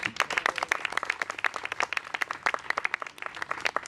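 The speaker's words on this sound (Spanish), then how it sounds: "Les pido un aplauso por favor por ellos." A small audience claps for musicians after a mime and music theatre piece with piano and accordion, a modest, fairly faint round of distinct individual claps in quick uneven rhythm.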